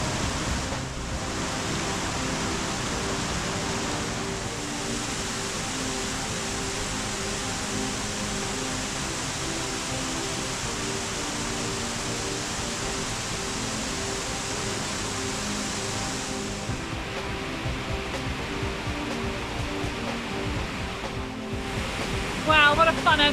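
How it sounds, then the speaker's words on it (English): A powerful waterfall in a Blue Mountains canyon near Mount Wilson roars steadily into a deep pool, a dense, unbroken rush of water that fills the whole scene from start to finish with no voices. "So we've just come to this gorgeous waterfall. It's absolutely pumping."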